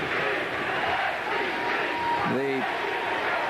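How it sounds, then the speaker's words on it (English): Football crowd at the 1990 SWC Championship between Arkansas and Houston, chanting SEC as a broad, steady roar of many voices that fills the stadium, with a brief tonal blast cutting through partway. "The crowd is chanting SEC"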